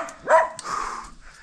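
A single close dog bark or yelp rises sharply near the start, followed by softer, rougher vocal noise and faint background sounds, recorded outdoors on a crawfishing outing.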